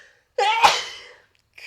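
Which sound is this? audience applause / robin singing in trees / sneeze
sneeze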